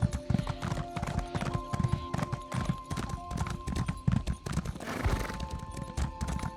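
Horse hooves gallop in a fast, steady clip-clop rhythm in The Elder Scrolls Online, loud and close, with other game sounds layered in and a brief burst of noise near the end.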